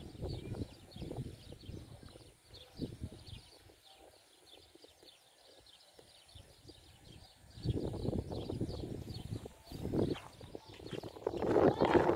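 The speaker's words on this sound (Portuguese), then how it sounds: "até cavalo tem aqui" A horse kept with sheep in a street near a gym clip-clops its hooves in intermittent bursts, louder near the end, with some talk and faint birds in the background.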